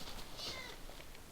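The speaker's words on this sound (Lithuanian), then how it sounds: "Čia katė." A cat meows in the Minecraft video game, one short faint mew in the middle of a brief, quiet clip.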